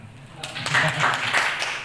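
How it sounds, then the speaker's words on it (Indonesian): An Indonesian audience at an agricultural gathering bursts into applause after a moment of quiet, a dense wash of clapping that swells and holds while a voice carries on over it. "Berarti bangsa Indonesia kabeh tepuk tangan."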